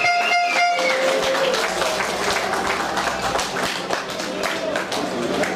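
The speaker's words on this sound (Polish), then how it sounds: "Jeszcze raz brawa" Crowd applause at a hill climb motorsport event, scattered claps over about five seconds, fairly near, with an announcer's voice speaking over it at the start.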